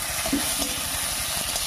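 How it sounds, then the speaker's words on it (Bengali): Tomato being stirred into fried onions in a pan while cooking a mustard-poppy seed puti fish dish, with a constant close sizzle and a few soft scraping strokes of the spoon, heard alone. "টমেটো দিয়ে একটু নাড়িয়ে নিয়েছি"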